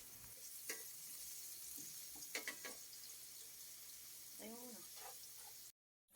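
Garlic and onion frying in a pan for milkfish bistek, a steady moderate sizzle running throughout with a few clicks of stirring and a brief bit of talk, cutting to silence just before the end.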